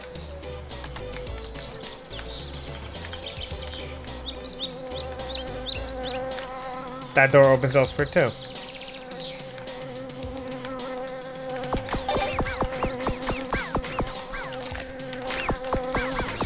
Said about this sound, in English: I think the bees are stuck behind trees